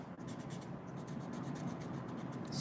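A colored pencil scratches quickly across paper in a steady run of fast, soft strokes, close up and quiet, with no talk.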